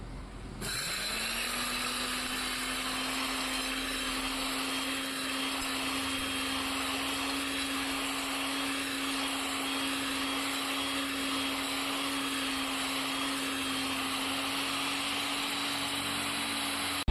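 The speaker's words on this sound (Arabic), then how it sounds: "هنحط المكونات دي كلها بقى في المطحنه، وبعد الطحن نشوف شكلها يبقى عامل ازاي" An electric spice grinder pulverizes a batch of herbal ingredients, starting with a sharp spin-up and then holding a loud, steady high-pitched whine with a rattling, gritty edge for the full stretch, no voices.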